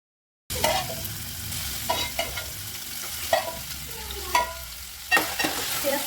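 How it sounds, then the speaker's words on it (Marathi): Marinated prawns frying in oil for a prawn curry, a steady close sizzle punctuated by several sharp crackles and spatters as the pieces are turned and stirred, with no talking. "ते आपण पहिलं प्रॉन्स भाजून घ्यायचे त्याच्यात तेलामध्ये छानपैकी भाजून घ्यायचे आपल्याला"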